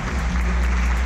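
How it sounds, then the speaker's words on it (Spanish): Applause from the audience at a freestyle rap battle final, a brief dense burst of clapping over a loud low rumble of the venue's sound system. "Un aplauso de verdad"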